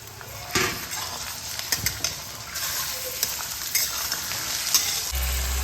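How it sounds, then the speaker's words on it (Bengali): Chicken pieces fry with lightly browned onions in a pan for a cabbage chicken recipe, giving a steady close sizzle broken by several sharp scraping and stirring knocks from a utensil, with no talk. "চিকেনটাও পেঁয়াজের সঙ্গে ভাজা ভাজা করে নেব।"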